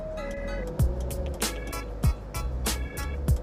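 A Mazda Miata MX-5 drives along with a steady low engine and road hum from inside the cabin, crossed by a few soft thumps and a faint tonal whine.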